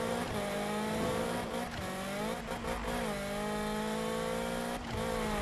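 Engine of a car in Need for Speed drones steadily at close range with shifting revs and brief dips, sounding somewhat odd and buzzy, alone without talk.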